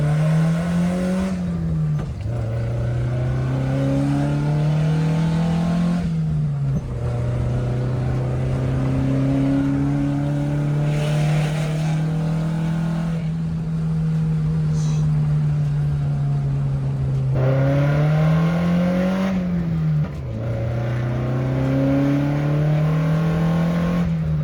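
A Datsun 510 engine drones loud and steady from inside the car while driving, rising through the revs and dropping back between shifts several times, with occasional talk underneath.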